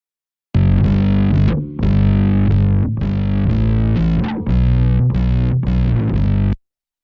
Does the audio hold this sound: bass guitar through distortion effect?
yes